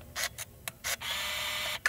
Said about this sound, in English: I'm gonna go ahead and grab this camera motor sound effect here.